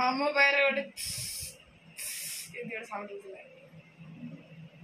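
Two bursts of hissing from a pain relief spray can being applied, each lasting about half a second, close and fairly loud, with a voice speaking before and after them.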